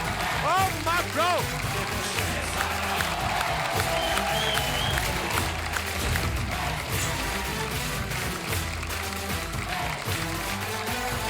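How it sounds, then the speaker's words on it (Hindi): A studio audience at a Hindi comedy talk show bursts into loud applause and cheering as a Bollywood actor is welcomed, steady crowd noise with a host's voice and music mixed in. "आप सबकी जोरदार तालियों के बीच बुलाता हूं"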